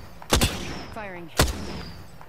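Video game gunfire: two loud, close bursts about a second apart, with a brief rising electronic whine between them.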